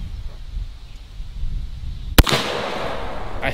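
A Zeus 12 gauge shotgun fires a single sharp, loud shot of number 8 shot at an outdoor range, followed by a broad noisy echo and a faint second crack near the end.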